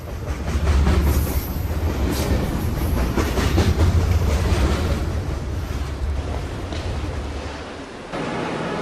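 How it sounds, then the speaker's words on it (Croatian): A train rolls past close by, a loud sustained rumble with rhythmic clickety-clack of wheels on rail joints and some metallic squeal, holding steady for most of the pass before tapering at the end. "ovdje je upravo prošao vlak"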